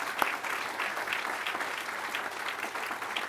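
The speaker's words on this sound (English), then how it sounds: "So please, a round of applause for our instructor pilots." At an Air Force pilot training graduation ceremony, the audience claps for the instructor pilots, a brief, even burst of many hands heard from a moderate distance.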